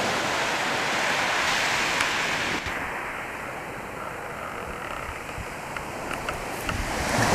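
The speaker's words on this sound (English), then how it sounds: "just hearing the ocean again just makes me really happy because I just love being by the sea" Ocean surf along the coast at Kaikoura, New Zealand, a steady broadband wash of waves that holds fairly even for several seconds, with wind-like hiss and no voices.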